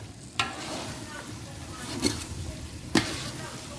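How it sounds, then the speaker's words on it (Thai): Black beans and steamed sticky rice stir-fried in a pan, a soft continuous scraping and sizzling with three sharp spatula clacks against the pan, close and moderately loud. "ข้าวก็นึ่งนิดหน่อยนี่แม่ นึ่งนิดหน่อยนะแต่จะไปนึ่งเยอะแล้วค่อยเอามาผัดนะคะ"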